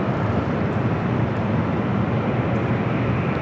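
An airliner takes off from the south side runways at LAX, producing a steady, broad, roaring jet rumble that holds at an even level throughout with no voices.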